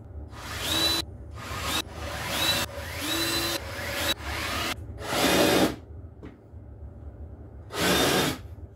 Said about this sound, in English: I'm going to get these pilot holes drilled and then get them countersunk